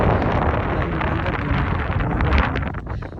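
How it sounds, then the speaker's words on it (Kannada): Strong wind gusting at a hilltop viewpoint in rainy weather, a loud steady buffeting roar across the microphone with no break. "ಇಲ್ಲಿ ತುಂಬ ಗಾಳಿ ಸಹ ಬರ್ತಾ ಉಂಟು."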